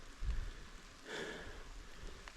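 Steady rain falls outdoors as a continuous soft hiss, with a brief louder patter of drops partway through and a faint low thump at the start.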